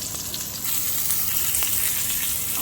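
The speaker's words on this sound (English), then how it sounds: "I'm frying them in the pan and I'm going to turn them into an omelette for Tony's breakfast" Courgette slices fry in a pan on the way to becoming an omelette. They give a steady, close sizzle with small crackles throughout, and no talking over it.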